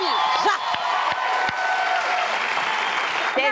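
Applause from a studio audience at a Brazilian comedy show, a steady dense wash of clapping with a few whoops, sustained and loud throughout.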